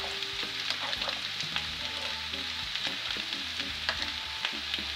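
Steady bubbling and sizzling from mushroom soup simmering in a pot on the heat, a continuous close crackle with faint clinks, no voices.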